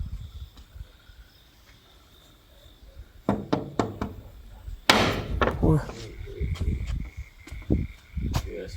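A door is pounded hard as if someone is trying to break it down, loud heavy knocks and thuds in irregular bursts that build into a louder crash, with muffled voices underneath.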